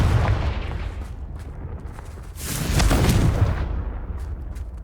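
A Confringo blasting spell in Hogwarts Legacy lands as a single deep, rumbling boom that swells midway and decays slowly, loud and close, with no speech.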